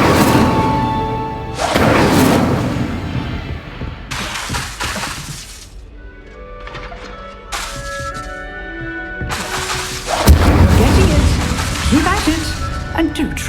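A fire spell cast in the wizarding game Hogwarts Legacy comes as loud whooshing, crackling bursts that return in several waves, with other game effects and a little talk between them.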